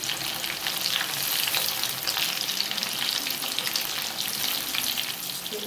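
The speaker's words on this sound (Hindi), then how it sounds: "एक तरफ से ये पनीर पकौड़ा फ्राई हो गया, इसको हम दूसरी तरफ पलट देते हैं" Sesame-coated paneer pakoda fries in hot oil, giving a steady, dense sizzle that crackles continuously at close range with no voices.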